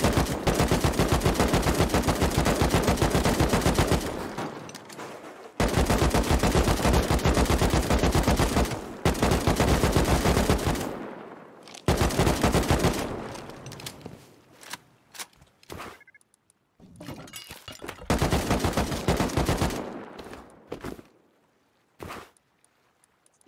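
Bursts of gunfire with regular ammo in the survival game Rust during a base raid, loud rapid volleys separated by short pauses, then sparser scattered shots and footsteps toward the end.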